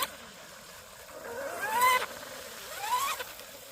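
SSS Shrimp Rigger RC speed boat on 3s/4s power runs past at about half throttle, its motor whine rising and falling in two quick passes over a steady low background.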